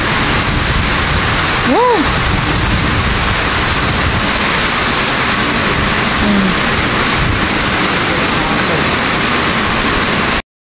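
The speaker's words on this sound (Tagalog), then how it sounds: "Ito na naman yung malakas na ulan at hangin." Heavy typhoon rain pours in a dense, steady roar driven by strong wind, loud and continuous throughout, with a brief whistling tone early on and a faint voice nearby.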